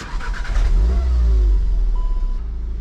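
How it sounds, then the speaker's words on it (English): A 2014-2019 VW Golf 7 R engine cranks and catches, revving briefly before settling into a smooth idle close by. "let's start the car and hear the engine sound"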